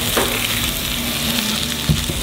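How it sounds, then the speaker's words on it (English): Sliced garlic sizzles steadily in oil in a skillet with salmon, a close, continuous frying hiss with a couple of soft stirring knocks. "I'm gonna add some sliced garlic in here. Soften that up for about a minute."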